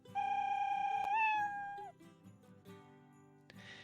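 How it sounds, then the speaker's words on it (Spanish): A Scratch cartoon cat meow fired off over and over in rapid succession, bright stacked repeats blurring into one long warbling cry that dips and trails off, followed by a short burst of noise at the end. "está diciendo miau 30 veces, rapidísimo"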